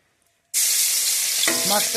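Small fish hitting hot oil erupt into a sudden loud, steady sizzle that starts abruptly after a brief quiet and keeps crackling close by without a break.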